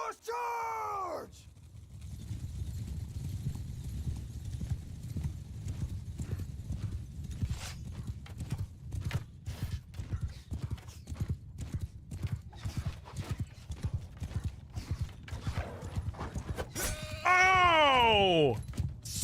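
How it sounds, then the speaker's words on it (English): Galloping cavalry horses in a Bannerlord Lord of the Rings mod battle, a dense continuous drum of hooves thundering throughout, with a horse whinny at the start and another near the end. "Cavalry! I should have known as much. Traitor! Horse charge!"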